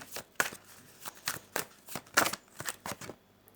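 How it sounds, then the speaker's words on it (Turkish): Tarot cards are shuffled and drawn by hand, a string of close, crisp riffling and flicking bursts at an uneven rhythm against a quiet background. "ben yine de onunla ilgili bir kart daha çekmek istiyorum"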